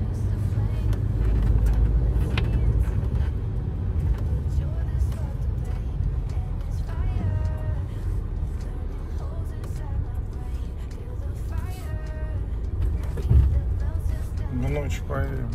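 A truck sets off and drives on a snowy, icy winter road, giving a steady low engine rumble throughout. Someone talks over it the whole time.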